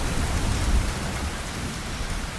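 Heavy rain pours steadily with a dense, broad hiss and low rumbling undertone, continuous and loud throughout with no voices.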